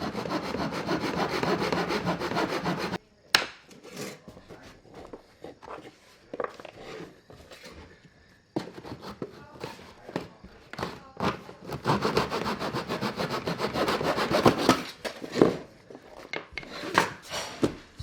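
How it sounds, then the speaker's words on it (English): A hand saw cutting a sheet of 1/4 inch Hardie backer board laid on 3/4 inch plywood, close rhythmic rasping strokes in uneven bursts with short pauses between runs. "So you're just going to basically put it on your 3/4 inch plywood like this and just start cutting."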